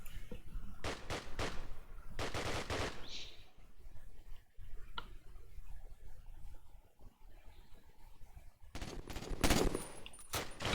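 Machine gun fire in a UnitedBase tactical shooter match, several rapid bursts of automatic fire near the start and again toward the end, separated by quieter stretches with a few isolated shots.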